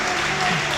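A church congregation claps together in a brief, dense burst of applause filling the room, with no clear voices on top.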